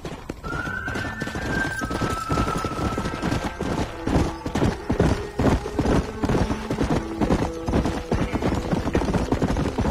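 Horse hooves clip-clop steadily while riding in Red Dead Redemption, a close, continuous rhythmic clopping that runs the whole stretch alongside the game's ambient sound.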